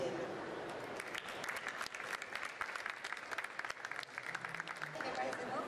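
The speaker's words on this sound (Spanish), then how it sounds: "Así que, doble aplauso por primera vez." An audience at an international book fair applauds with sustained clapping, moderately faint and steady throughout, with some voices mixed in.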